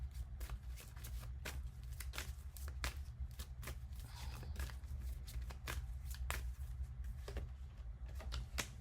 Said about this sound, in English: let's just pull one more card.